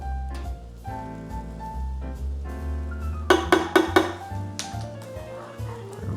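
A utensil stirs a heavy cream and garlic powder sauce in a pan, with a quick cluster of metallic clinks and scrapes midway over a steady tonal hum in the background.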